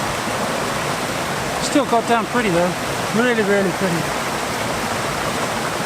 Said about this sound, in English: There's not been enough rainfall to really make this a raging torrent of water